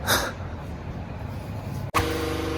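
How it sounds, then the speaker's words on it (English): An air compressor drones steadily with a low mechanical hum in a garage during race car prep, cutting out abruptly near the end and then starting up again. "apologies for the noise. Compressor's going."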